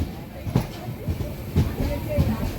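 The Ratnachal Express with LHB coaches at Duvvada station gives a low rolling rumble with soft periodic wheel clacks, moderately distant and steady.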